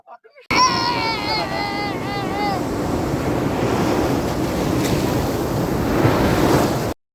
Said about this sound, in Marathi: इथे नाही का लाटा बघा पूर्ण वरतीपर्यंत